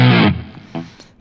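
Electric guitar through a distortion effect on a guitar rig, a loud, thick, saturated chord that decays quickly, followed by a couple of shorter, quieter plucked hits.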